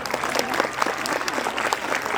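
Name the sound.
audience applause for teachers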